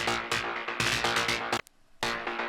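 A metallic synth lead patch run through delay and clipping plays rhythmic bright stabs, cutting out briefly before resuming, loud and alone with no voices.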